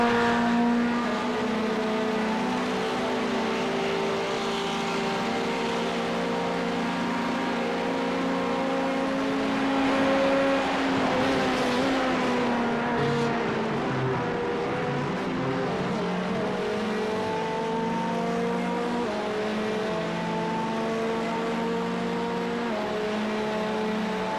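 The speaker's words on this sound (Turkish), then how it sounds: "Ferrari 499P GTP aracı." Ferrari 499P GTP prototype race car at the Daytona 24 hours, its engine note droning steadily with shifting revs and a brief swell as it passes, heard alone without talk.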